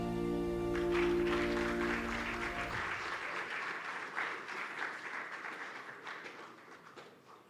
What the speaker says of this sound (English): let's give a round of applause to the fellows that just exhibited